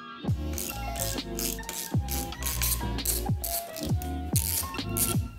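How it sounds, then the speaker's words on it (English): Ratchet wrench clicking in quick rhythmic strokes while loosening the stem bolts on a road bike, close and clear, with a metallic rattle between strokes and no talk. "we're gonna loosen the stem bolts so we can basically push the stem rather inwards"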